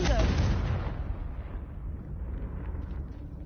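Confringo blasting spell cast in Hogwarts Legacy: one loud, booming burst at the start that trails off into a low rumbling tail.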